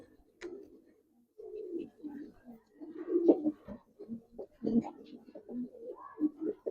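A pair of silver Giribaz pigeons coo close by in short, repeated throaty bursts separated by brief pauses, fairly quiet and without talk.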